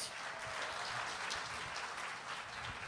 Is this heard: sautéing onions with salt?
no